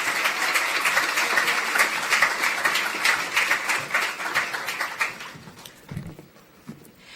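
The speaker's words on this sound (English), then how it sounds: "Give them a round of applause." An audience at a national youth awards ceremony breaks into sustained applause, dense clapping that carries for about five seconds before tapering off into a few scattered claps and quiet room noise.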